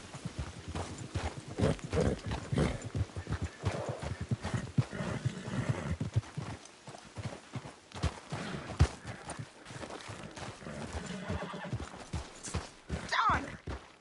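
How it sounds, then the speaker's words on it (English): A horse in the video game Red Dead Redemption 2 gallops with fast, steady hoof clip-clops throughout, and a short whinny rises near the end. "Damn horse acting up on me."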